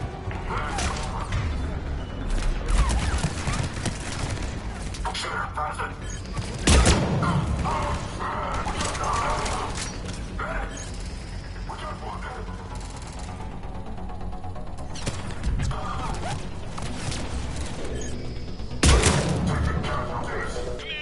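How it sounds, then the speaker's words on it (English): Mortar fire and explosions on a Mass Effect 3 battlefield: continuous rumbling gunfire and clattering debris with heavy blasts landing every several seconds, while speech is faintly heard amid the combat. "Commander, we're getting a lot of mortar fire."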